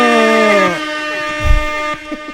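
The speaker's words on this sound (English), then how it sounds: "Let's give him an air horn." An air horn sound effect blares on a podcast: a loud, drawn-out honk whose pitch sags toward the end, then a low thump and some fainter rumbling trail after it.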